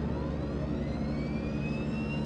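A DHC-6-300 Twin Otter's left turboprop engine starting in the FSX flight simulator, with a steady broadband roar and a turbine whine climbing gradually in pitch as it spools up. No voices are heard.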